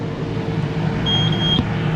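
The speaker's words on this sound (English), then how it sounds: "It beeps at you when you want to drop a bundle, or when it does drop a bundle." A single high, steady warning beep from a hay baler dropping a bale bundle, lasting about half a second, sounding over a low machinery engine rumble.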